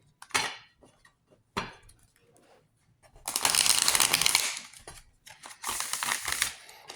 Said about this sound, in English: Cut the deck. And we'll shuffle one more time.